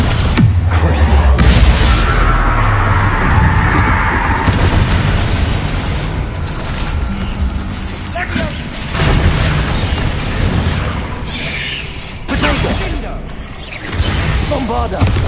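Bombarda and Confringo spell blasts in Hogwarts Legacy, a dense barrage of booming explosions and whooshing bursts with continuous loud rumble, while a voice shouts over the battle.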